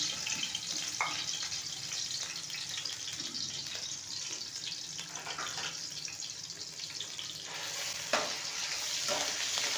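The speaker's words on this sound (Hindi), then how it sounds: "हल्के हल्के फ्लेम पे अदरक की और लहसुन की भुनाई करनी है।" Crushed ginger and garlic frying gently in oil over a low flame, giving a steady, soft sizzle that runs throughout with faint stirring scrapes and occasional small pops.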